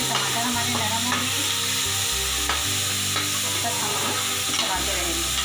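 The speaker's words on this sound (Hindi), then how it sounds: "चलाते रहेंगे।" Ginger, green chillies and tomatoes fry in a pan for a mixed vegetable masala khichdi, with a steady close sizzle and repeated spatula scrapes as the mixture is stirred, over a low steady droning tone.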